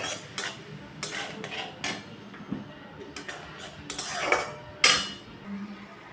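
A spoon scrapes and knocks against a pan while katla fish egg curry masala is stirred, sharp metallic clinks and scrapes at irregular intervals over a quiet background.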